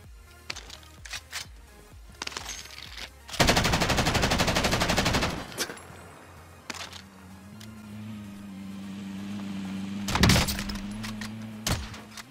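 A PKM machine gun fires in a video game, a loud sustained rapid burst lasting a couple of seconds, amid scattered clicks, single shots and background game noise.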